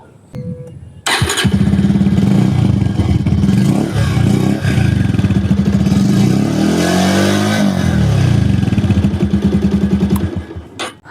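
A liquid-cooled Bajaj Pulsar 150cc single-cylinder motorcycle fires up through its silencer pipe, settling into a loud, close, throbbing idle with a rising rev swell midway before the engine cuts off near the end.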